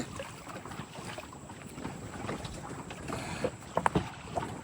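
A fishing boat engine runs steadily on a Sundarbans river at night, making a continuous low drone under wind and water noise, with a few sharper knocks near the end.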